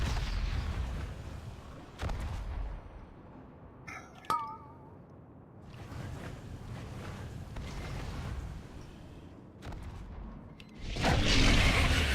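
Artillery fires during a heroic Antorus, the Burning Throne raid in World of Warcraft: heavy booming blasts and rumbling impacts recur over a steady background din of combat effects, with a brief metallic chime in between.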